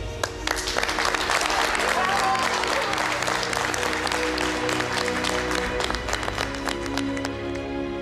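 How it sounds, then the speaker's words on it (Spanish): Studio audience at a cooking competition final applauds for a finalist, continuous close clapping with some sharp individual claps, a low hum beneath, and voices murmuring under it. "Este aplauso es para ti"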